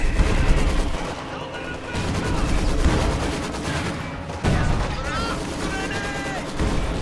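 Rapid bursts of gunfire and machine-gun fire crackle through a Company of Heroes 2 World War II battle, dense and continuous with heavy impacts, while voices call out over the fighting.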